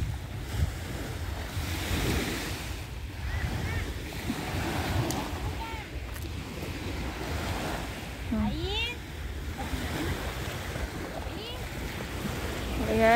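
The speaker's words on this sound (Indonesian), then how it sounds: "Ombaknya kencang banget, masya Allah." Strong ocean waves crash and surge continuously on Ras Tanura beach, with gusty wind buffeting the microphone; people talk and exclaim intermittently over the roar of the surf.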